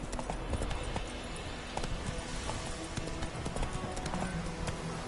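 The horse Roach gallops in the video game The Witcher 3, with rapid, steady hoofbeats up close over a dense, continuous game soundscape.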